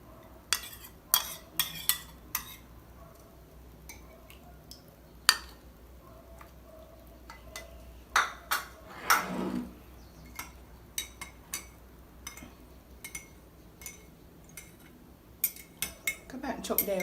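A spoon clinks and scrapes inside a cup of tea while grated ginger is stirred in, with scattered metallic taps and rattles, close by, and brief pauses between strokes.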